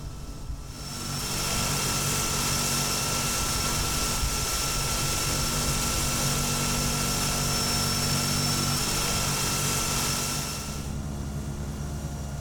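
A Cessna 208B Grand Caravan turboprop engine in the Prepar3D simulator spools up into a steady, loud whining drone with a high tone, holding level before easing off near the end.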